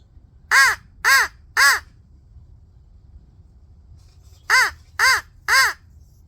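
A handheld crow caller imitates crow cawing outdoors: two loud, close sets of three evenly spaced harsh caws separated by a quiet pause, over faint background hiss.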